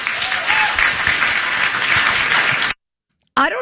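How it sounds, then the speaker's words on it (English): A crowd at a political rally for a Maine Senate candidate breaks into dense, sustained applause that stays loud and even, then stops abruptly into silence before a short burst of other sound returns. "people in the crowd clapping"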